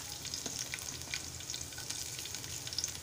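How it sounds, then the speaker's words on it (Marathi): Garlic dropped into hot oil for Maharashtrian-style egg bhurji gives a soft, continuous sizzle with fine crackling pops, fairly quiet and close, with no talking. "लसूण घालूया"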